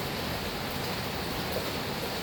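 Steady rain falls outdoors at a rural Isan home, a dense, even hiss of drops on surfaces that continues unbroken through the clip with no talk.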